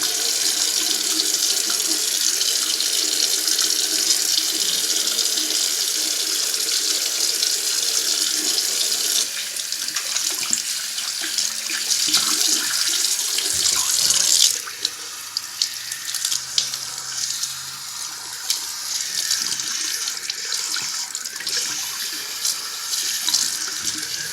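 A bathroom tap runs steadily while hair is rinsed, a continuous close hiss of flowing water that shifts in tone partway through as the stream changes, with no talking.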